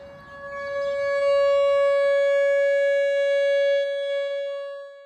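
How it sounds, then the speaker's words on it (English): A loud outdoor tornado warning siren holds a steady wailing tone, swelling in and slowly fading, heard alone without voices. "Outdoor warning sirens like this one play an important role when it comes to severe weather."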